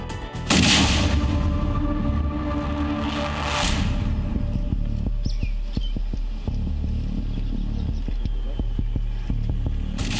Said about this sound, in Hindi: रात के वक्त हुए इस धमाके की गूंज सिर्फ पुलवामा में ही नहीं